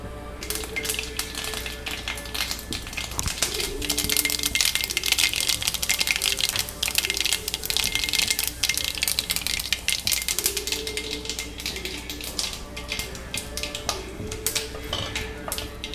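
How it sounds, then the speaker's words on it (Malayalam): Mustard seeds splutter and pop in hot sesame oil in a pan, a dense crackling patter of sharp pops and rattles that rises and fades, with faint tonal hum beneath. "അപ്പോൾ കടുക് പൊട്ടി"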